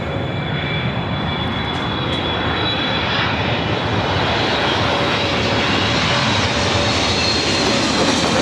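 A Boeing 777 heavy jet roars in to land on runway 24 right at LAX, a loud, steady broadband rumble of engine noise that fills the whole stretch without letup.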